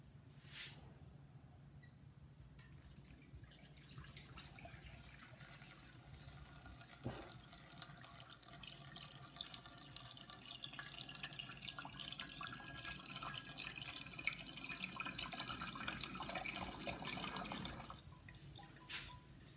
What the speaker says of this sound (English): So we're just going to pour this out now and just get any kind of solids out of there.